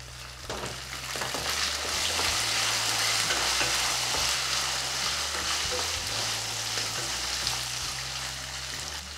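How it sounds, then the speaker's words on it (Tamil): Small shallots tipped into garlic already frying in hot oil for a snakehead murrel fish curry give a loud, steady sizzle that swells slightly and holds, with no voices. "பூண்டு நல்லா வதங்கிடுச்சு இப்போ சின்ன வெங்காயம் சேர்க்குறேன்"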